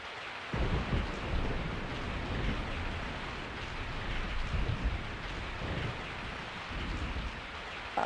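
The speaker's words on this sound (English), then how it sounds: "I woke up to the sound of falling rain." Steady heavy rain in the video game Resident Evil 3, a dense hiss of falling water with low rumbling swells underneath, constant throughout with no voices.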